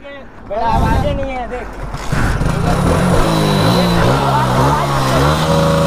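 A Suzuki Hayabusa motorcycle with its exhaust opened up revs loudly at close range, the engine pitch climbing and falling in repeated surges while someone talks over it at the start.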